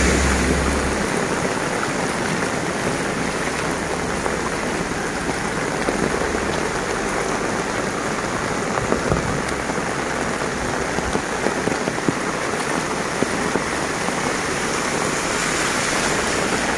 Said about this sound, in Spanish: Es la tormenta o huracán Nora.